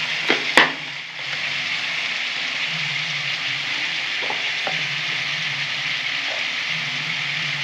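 Chopped cucumber fries in a hot pan with a steady, even sizzle and a few brief scrapes and knocks of stirring near the start, close and continuous, with no talking.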